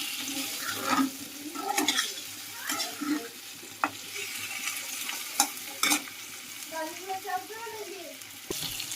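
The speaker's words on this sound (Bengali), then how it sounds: "ডিম আর আলু একসঙ্গে কষিয়ে নিয়ে" Eggs and potatoes being sautéed together in a pan for an egg-potato curry: scraping spatula strokes and soft sizzling with scattered sharp clinks, moderately close and fairly quiet, no talking.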